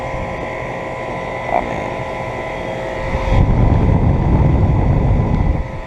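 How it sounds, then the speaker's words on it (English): A 2007 Guardian 4-ton central air conditioner with an A.O. Smith fan motor starts up outdoors: a steady hum is joined partway through by a louder rushing, rumbling whoosh as the fan kicks in, with someone briefly speaking early on. "A.O. Smith fan motor."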